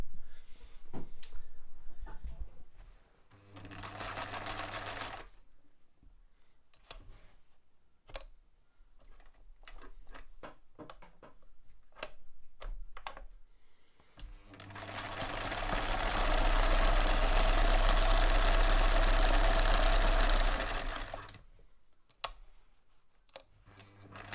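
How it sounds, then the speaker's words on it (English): A vintage Husqvarna 2000 sewing machine stitches in short bursts and one longer run, with clicks and a mechanical rattle in between. "These machines can sound a little bit rattly sometimes"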